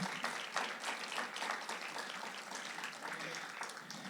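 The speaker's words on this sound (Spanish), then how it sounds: "Dele ese aplauso al Señor" A church congregation applauds together in a dense, steady wash of clapping that holds at an even level from start to finish, with no speech standing out.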